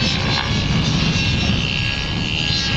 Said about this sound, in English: From the left-hand side, Kevin, bring that aircraft in now.